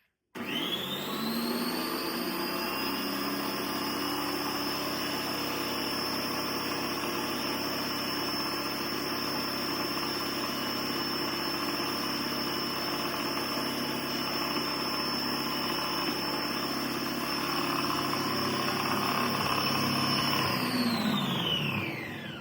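An Upliance kitchen appliance blends baby food with a steady, loud motor whine that runs unbroken for about twenty seconds and then winds down, with no talking over it.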